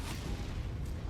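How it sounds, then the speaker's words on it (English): Tank cannon shot in a video game, a single short heavy boom with a low rumbling tail. "that's probably that tank right there that shot me"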